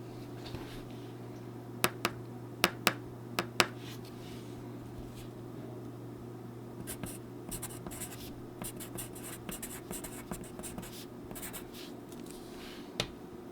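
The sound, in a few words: Oriole No. 2 pencil writing on paper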